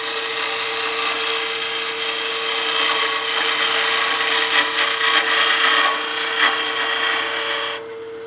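A skew chisel trues up the end of a spinning wood block on a lathe while turning a witch head, giving a continuous close, loud scraping hiss with slight surges, ending abruptly as the cut stops.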